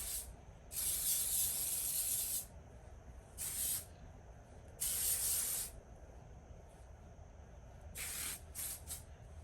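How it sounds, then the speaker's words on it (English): Dry Bar Hot Toddy heat protectant mist sprayed onto hair in several bursts: two long hissing sprays, a short one, another long one, then a quick cluster of short spritzes, close and clear over a quiet room. "And I'll just spray it."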